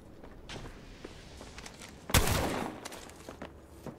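Apex Legends combat at close range with a shotgun, one sharp loud blast standing out amid scuffling footsteps and fainter shots, all fairly quiet overall.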